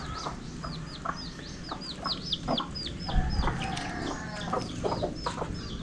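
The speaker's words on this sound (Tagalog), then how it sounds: "magpapakain po muna tayo ng mga alaga natin, yung mga manok dito" Several chickens cluck and chatter steadily close by, with sharp high chirps from birds scattered throughout.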